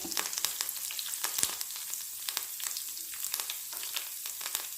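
Mustard seeds, cumin, urad and chana dal, dried red chillies, curry leaves and hing frying in hot oil for a tempering, giving a steady close sizzle with sharp crackles and pops scattered throughout.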